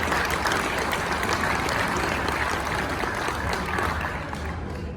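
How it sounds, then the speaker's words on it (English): A ceremony audience claps steadily throughout the opening of a Toys for Tots ride in honor of Santa, dense sustained applause that fades slightly toward the end. "let's have a big round of applause for Santa for being with us today"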